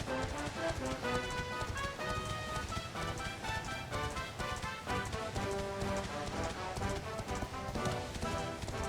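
Horse hooves galloping in the Dragon Quest XI video game, a rapid steady clip-clop rhythm running throughout over a dense, loud musical backdrop.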